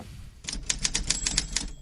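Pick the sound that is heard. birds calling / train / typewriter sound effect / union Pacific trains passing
typewriter sound effect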